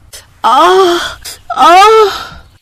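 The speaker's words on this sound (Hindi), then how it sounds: "तभी उसे गुड्डी के चीखने की आवाज आई।" A girl screams twice in an audio drama after a fall, two drawn-out wailing cries separated by a short breath, loud and close with nothing else behind them.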